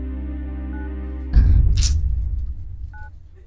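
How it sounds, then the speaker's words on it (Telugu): A steady telephone tone runs, cuts off abruptly, then gives way to a burst of rustling and handling noise with a short electronic beep near the end, as a call fails to connect. "ఎన్నిసార్లు ఫోన్ చేసినా ఫోన్ కలవడం లేదు."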